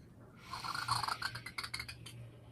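A single slow, audible inhale through the nose during a guided breathing exercise, raspy and close, rising and fading over about two seconds.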